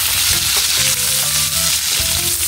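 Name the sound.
fat frying and sizzling in a pan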